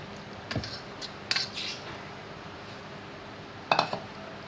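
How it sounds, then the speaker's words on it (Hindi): A metal pot set on a home kitchen stove as apricots go in for a sweet apricot dessert, giving a few faint clinks and knocks spread apart against quiet room noise. "एक बर्तन अपने चूल्हे पे रखेंगे। बर्तन में हम अपने खुबानी को डालेंगे।"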